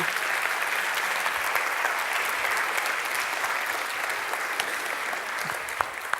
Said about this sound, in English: big round of applause yet again